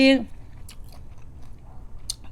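Someone chews fish dip (pon pla) with fresh vegetables, a few soft crunches and bites sounding close and faint after a brief burst of voice at the start.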